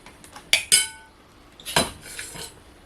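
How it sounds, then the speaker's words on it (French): Coleslaw of shredded cabbage and carrot being mixed in a bowl: two sharp utensil clinks close together, then a third clink and softer scraping, all near and fairly quiet with no talk. "vous mélangez la salade"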